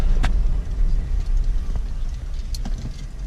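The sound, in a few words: Jeep Wrangler JK driving around the block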